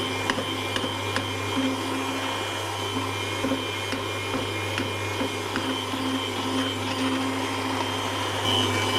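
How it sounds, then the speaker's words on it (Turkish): An electric hand mixer whirs continuously at steady speed mixing ice cream, a constant motor hum with faint scraping in the bowl, no talking. "güzelce karıştırıyorum mikserle"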